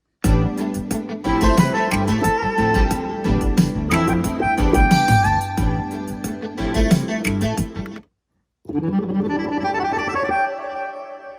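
Soprano saxophone patch on an Akai MPC plays a loud, busy melodic line with bright sustained notes, then breaks off briefly before a second, thinner phrase resumes, with no talking.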